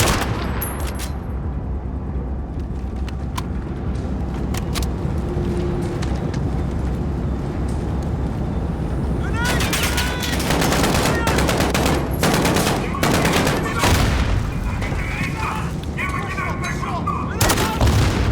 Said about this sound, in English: Take that shotgun! Shoot him!